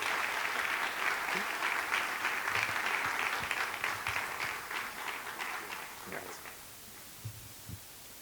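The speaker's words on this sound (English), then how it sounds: "So please give a big round of applause to Chris Paul." An audience at a chancellor's address claps steadily, a dense wash of applause that gradually thins out and fades, leaving a few scattered claps at the end.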